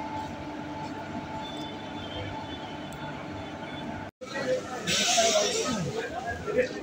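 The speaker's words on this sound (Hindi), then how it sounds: "तो स्पेशल ट्रेन का जो लोको है आगे WAP4" WAP4 electric locomotive at the head of a CRS inspection special train starting up on a newly doubled line, with a steady low rumble and hum followed by louder rolling noise and squeals after a brief break.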